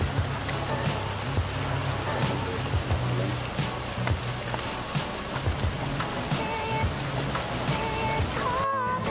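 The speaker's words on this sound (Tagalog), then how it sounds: "Ay, ulan." Steady rain patters densely on surfaces all around, a continuous close wash of drops with occasional louder splashes.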